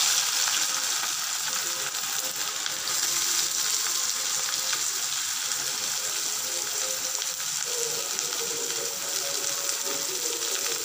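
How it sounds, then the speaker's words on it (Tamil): Mustard seeds, cumin and onion frying in oil for a mushroom gravy, a continuous dense hiss and crackle that holds steady throughout, close and fairly loud with no voices. "கடுகும் ஜீரகமும் நல்லா பொரிஞ்ச உடனே நம்ம ஆனியனை ஆட் பண்ணிக்கலாம்"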